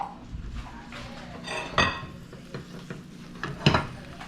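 Birria tacos sizzle in a pan, with several sharp metallic scrapes and clinks as a spatula works under and flips them, close by, the frying hiss steady underneath.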